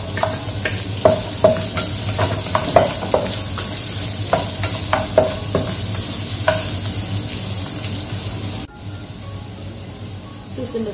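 Chopped onion sizzles in hot oil with garlic for vegetable lumpia filling, a loud steady frying hiss broken by repeated spoon-scraping stirs, then a short drop before the sizzle continues.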